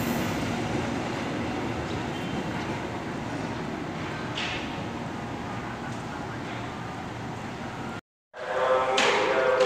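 A KRL commuter train rumbles past close by at Manggarai station, Jakarta, with steady broadband rolling noise and faint wheel clatter, then cuts out abruptly before a brighter, hissing rail sound resumes.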